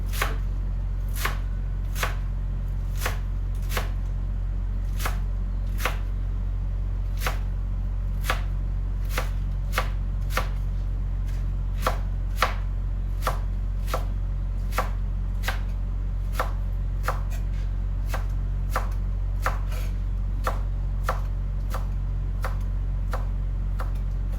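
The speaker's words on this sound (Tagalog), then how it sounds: "Ikakat ko lang ng maliliit na pieces" A knife chops food into small pieces on a board in a steady, evenly spaced series of sharp taps, roughly one per second, close and clear over a low background hum.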